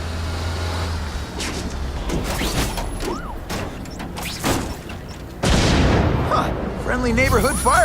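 Fireworks in a video game: repeated booms and crackling bursts go off amid rumbling engine noise, with voices and whistling tones mixed in.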